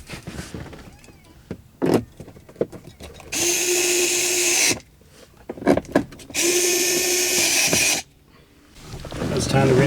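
On a 2004 Honda Element, a power driver whirs in two bursts of a second or more as it runs in two small retaining screws. Clicks and handling noises come from the dashboard work between the bursts.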